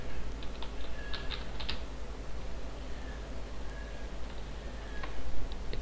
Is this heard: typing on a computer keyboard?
yes